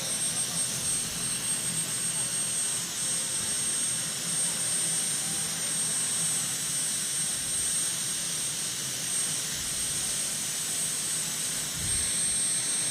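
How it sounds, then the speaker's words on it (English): A Lycoming T53 turbine engine on the Retired Warfare pulling tractor at a county fair tractor pull gives a steady, loud turbine whine and roar, with a high sustained jet tone over broadband rumble. "T53 Lycoming."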